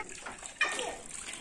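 A backyard pool filling slowly from a weak water flow, a soft steady splashing and hiss with a brief louder surge, a voice faintly in the background.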